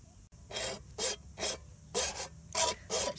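A blade saws through the plastic casing of a Vex IQ Smart Motor in six or seven close, rasping back-and-forth strokes, each a short gritty burst with near-silence in between.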